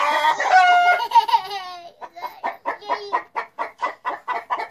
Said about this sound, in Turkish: Hep bir sürü tavuk var değil mi?